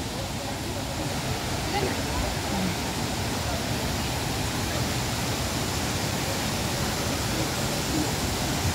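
Tinuy-an Falls waterfall, a broad steady rush of falling water that stays constant and fairly loud throughout, with no breaks.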